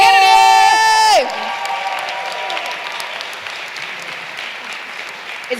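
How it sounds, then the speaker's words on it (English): Applause and cheering from a luncheon crowd at a Black, Puerto Rican and Asian caucus weekend, a sustained wash of clapping and cheers that rises as a loud sung tone cuts off and then continues steadily. "A round of applause to the chairwoman of the Black and Puerto Rican and Asian Caucus Weekend, Latrice Walker."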